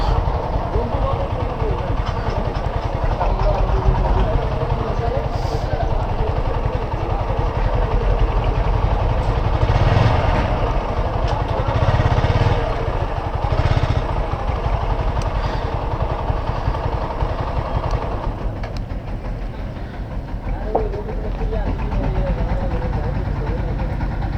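A trawler boat engine at a river ghat runs steadily, a loud continuous low throbbing drone heard up close throughout, with faint voices and brief clanks over it.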